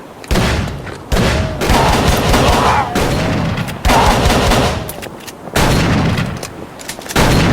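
Gunfire in the horror video game Call of Cthulhu: Dark Corners of the Earth, heard as loud, repeated volleys and sustained bursts of shots that come in several dense waves with short gaps between them.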